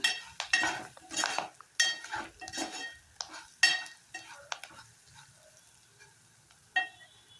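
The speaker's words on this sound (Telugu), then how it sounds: "ఇదంతా మరొకసారి బాగా కలుపుకుందాము" A salted mixture for a cabbage curry being stirred in a pan, with intermittent scraping strokes and light metallic clinks of a spoon against the pan that fade toward the end. Close and soft, with no voices.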